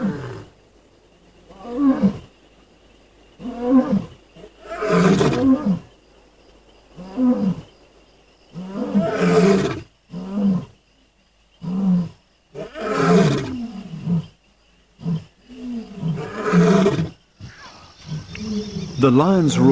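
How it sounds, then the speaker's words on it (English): Lions roar at night in the African bush, a long series of deep, heavy grunting roars that come in rhythmic bursts with short pauses, loud and close, over faint insect chirping. "one of the classic sounds of the African night is the sound of lions roaring"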